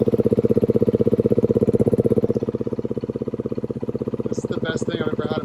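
A Beta 390 dirt bike's engine runs with the clutch pulled in, a loud, close, rapid pulsing thump at steady idle, with people talking over it near the end.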